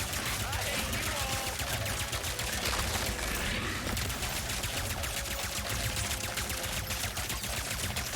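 Rapid video game gunfire in an arena shooter, a dense continuous stream of shots and impacts filling the whole stretch, loud and busy with layered game effects.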